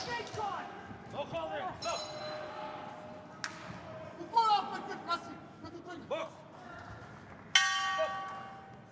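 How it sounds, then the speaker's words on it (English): Boxing ring bell at a youth world championship bout, ringing out sharp, bright strikes to end the second round amid crowd chatter and talk. "So that goes the bell at the end of the second"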